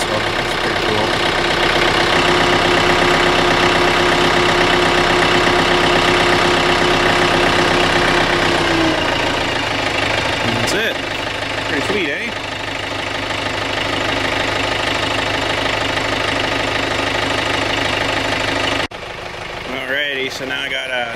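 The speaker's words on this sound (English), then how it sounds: "this tractor's got a thingy on there that idles it up high automatically" A John Deere 110 tractor loader backhoe engine idles high and steady while warming up, a loud, close, continuous rumble that shifts slightly partway through, with brief clunks near the end.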